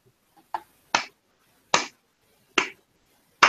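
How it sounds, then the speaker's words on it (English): Orsini delivers a slow clap: four sharp, isolated hand claps spaced evenly about three-quarters of a second apart, crisp and close against near silence. "Orsini is giving you the slow clap."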